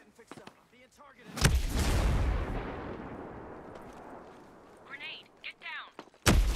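Gunfire and a grenade blast in the shooter game Ghost Recon Breakpoint: a sharp crack, then a long rumbling explosion that decays, with another sharp shot at the end and voice callouts around it.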